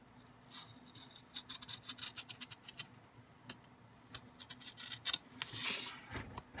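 A sharp craft knife cutting along a wooden heart, giving close, quiet scratchy scraping strokes in quick bursts with a few brief pauses, no talking.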